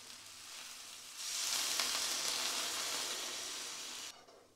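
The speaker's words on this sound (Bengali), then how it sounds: "এখন পরিমাণ মতো জল দিয়ে দেব" Water is poured into a pan of sautéed spices with green chili. After a soft frying hiss, a sudden loud surge of sizzling steam rises and holds for about three seconds, then cuts back sharply, with no talking.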